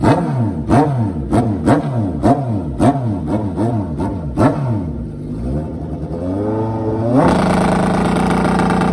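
A Dukes of Hazzard-themed Rebel drag racing motorcycle revs hard at the launch line in a rapid series of loud, sharp throttle blips, then drops into a brief lower rumble before the engine surges again steadily.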